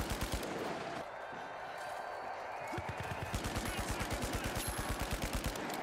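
Rapid automatic gunfire in the first-person shooter The Finals, dense regular bursts of close shots running through most of the stretch, with a short lull near the start and a faint voice underneath.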